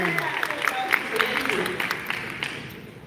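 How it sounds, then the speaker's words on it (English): Scattered clapping from a small audience, fading out over a few seconds, with a voice speaking over it. "can we give her a round of applause?"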